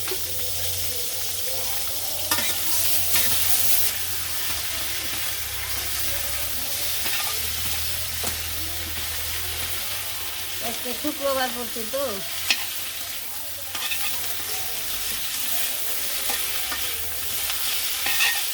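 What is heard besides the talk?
frying in a pan before adding chopped cabbage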